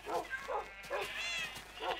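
Puppy in the Minecraft video game barking in short repeated yips, about five quick bursts in two seconds, close and clear with a little speech faintly in the background.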